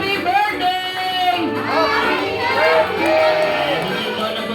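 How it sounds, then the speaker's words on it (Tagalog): A crowd at a 60th birthday party in a Jollibee restaurant in Malabon shouts together loudly, children's voices prominent among the mixed cheering and yelling, continuous and close throughout. "sabay-sabay mo tayo sumigaw ng malakas na Happy Birthday!"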